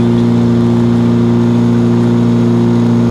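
Tesla Model Y electric car accelerating, a loud steady whirring hum with strong tonal drone held evenly throughout, no talking.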